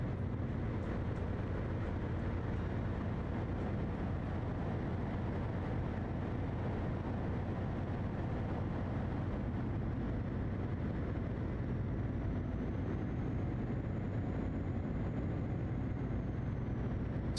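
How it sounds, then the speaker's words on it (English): Truck engine laboring up a hill on a long highway drive, a steady loud drone with road and wind noise throughout, with no clear dropouts or cut-outs standing out. "This truck sounds weird now going up the hill."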